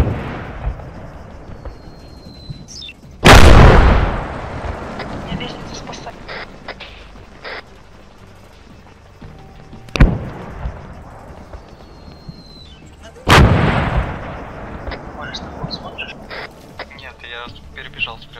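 Gunfire in the ArmA 3 military shooter game: three sharp, loud shots or blasts spaced several seconds apart, each trailing off in a long echo, over a quieter background of game sounds and voices on radio chatter.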